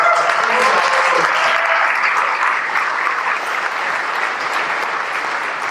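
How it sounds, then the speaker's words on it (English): Guests at an annual chamber awards dinner applaud the Warsaw culinary students, a broad, even roll of clapping from a large room that continues unbroken and eases off gradually. "a round of applause for the Warsaw culinary students"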